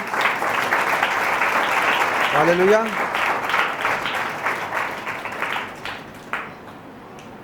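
A church congregation claps together during a Sunday service sermon in Pakistan, a loud sustained patter that swells, carries a brief voiced exclamation over it, then thins and fades toward the end.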